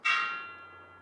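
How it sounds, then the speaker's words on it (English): A single bell struck during a Macbeth stage performance, one clear ringing stroke with a sharp onset and a long, slowly fading resonant tail, heard alone. "The bell invites me."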